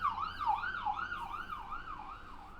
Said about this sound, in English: there's an ambulance going there.